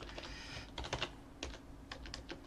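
Keys clatter on a computer keyboard in quick irregular bursts, close and fairly quiet, with short pauses between clusters of presses and no one speaking.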